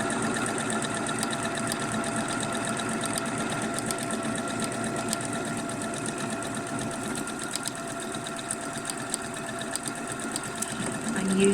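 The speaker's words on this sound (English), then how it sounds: "I'm just going to set to a regular buttonhole and do my buttonhole in this spot here" A domestic sewing machine stitches a regular buttonhole in white thread on pyjama bottoms, running steadily with a fast, even mechanical whir and rattle throughout, close and moderately loud.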